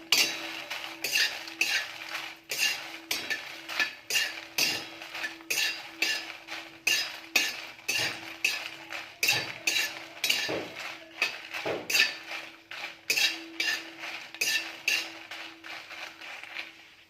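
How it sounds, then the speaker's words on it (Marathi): Green chilies roast in oil in a kadhai, heard as a rapid, regular series of metallic scraping and clinking strokes from a spatula against the pan over a faint frying hiss. "ह्या पन्नास ग्रॅम मिरच्या मी घेतलेल्या आहेत हा आपण भाजून घेणार आहोत"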